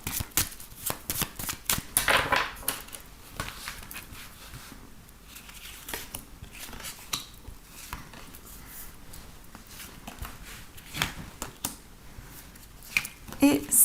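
Tarot cards are shuffled and drawn by hand in a run of soft, papery riffles and flicks. The card noise is close and comes in bursts, and someone speaks quietly over part of it.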